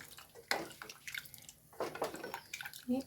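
Tamarind water is poured into a pot of curry and stirred, giving soft splashes and liquid sloshing in short, irregular bursts, close and fairly quiet.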